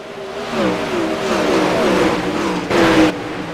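Sprint cars race at Knoxville as the green flag comes back out, a loud, high-revving engine roar with rising and falling pitch that surges near and strong, with no talk over it.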